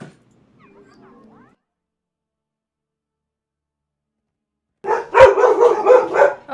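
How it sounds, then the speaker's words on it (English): Dogs in the video game Heroes of the Storm burst into a rapid, loud cluster of barks and yips after a nearly silent stretch and a brief faint murmur. "Oh, dogs."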